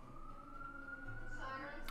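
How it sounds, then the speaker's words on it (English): Several emergency vehicle sirens wail outside, a steady rising tone with a second siren joining near the end, heard faintly from a distance with low room noise underneath. "Sirens? Yeah, lots of sirens."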